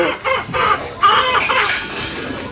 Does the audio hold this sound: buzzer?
no